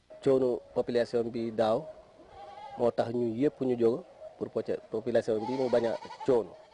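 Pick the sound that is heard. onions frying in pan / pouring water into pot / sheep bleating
sheep bleating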